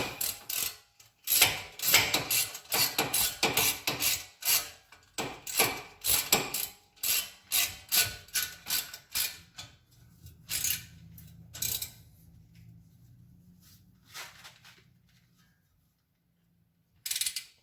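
Ratchet tightening bolts on the wheel hub assembly of a 2005 Dodge Ram, rapid close clicking bursts in quick runs with short pauses, fading into quieter stretches and a final short burst.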